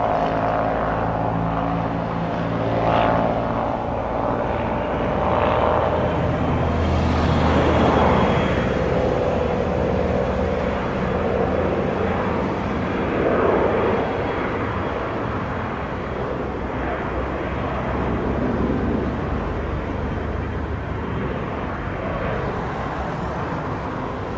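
An aeroplane takes off from the runway at Montego Bay, its engines producing a broad, sustained roar that swells and wavers steadily throughout with no talking.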